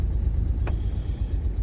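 A car engine idles on a winter street in downtown New Westminster, BC, a steady low rumble throughout with a brief sharp click partway through.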